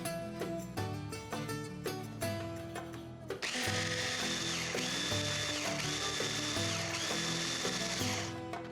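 A food processor blends chickpeas, onion and mint, a steady loud mechanical whir with rhythmic rattling that thickens into a denser grinding roar midway, running continuously with no talk.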